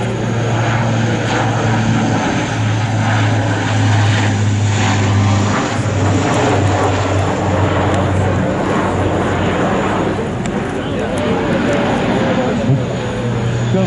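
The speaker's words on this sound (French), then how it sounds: "on vient de voir passer plusieurs C-130" Loud, steady droning of several C-130 Hercules military planes' propeller engines close overhead at La Fière, a deep humming roar that stays constant throughout, with faint voices underneath.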